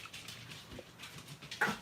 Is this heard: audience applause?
no